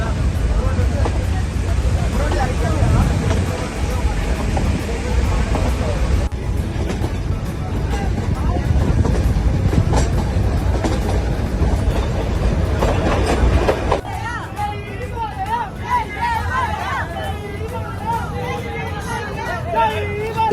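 The Ooty toy train runs along its rails with a continuous close rumble and clatter of wheels on track, while passengers chatter and talk throughout.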